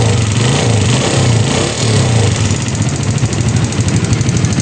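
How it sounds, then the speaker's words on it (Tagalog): Suzuki Raider G motorcycle engine idling with a rattling knock, a steady close mid-pitched chug with a fast ticking clatter running throughout, loud and alone with no talking. "Titingnan natin itong Raider G kasi malagitik yung kanyang andar."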